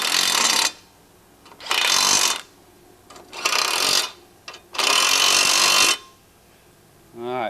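An impact or power tool tightens the U-bolts on a Polaris RZR front CV guard in four loud, buzzing bursts of about a second each, separated by short quiet gaps.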